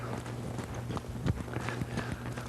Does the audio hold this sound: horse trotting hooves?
yes